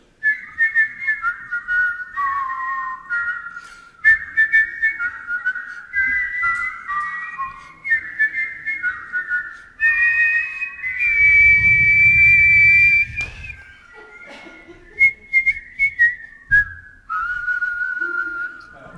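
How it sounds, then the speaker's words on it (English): A person whistles a melodic tune at a church talent show, a clear, steady stream of high notes with a brief louder low rumble partway through. "You can never whistle into a microphone."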